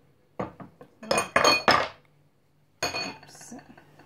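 Henna paste mixed with aloe vera gel in a bowl, a spoon scraping and clinking against the sides in quick bursts, then a pause and another rattling stir, close and fairly loud.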